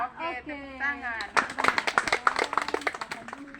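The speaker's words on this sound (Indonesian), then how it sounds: "Oke, tepuk tangan." A group of children claps hands, a burst of quick, uneven claps that follows a sung line, loud and close, continuing for a couple of seconds.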